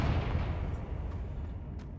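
A Confringo explosive spell cast in Hogwarts Legacy bursts with a dense, rumbling blast that rolls on for a couple of seconds, heavy and booming, then thins into a softer hissing tail.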